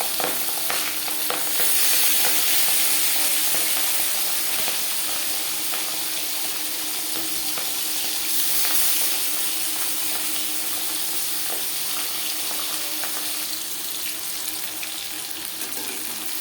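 Pabda fish, rubbed with salt and turmeric, frying in hot refined oil in a pan, giving a steady broadband sizzle that runs continuously and fairly loud throughout, with no talking.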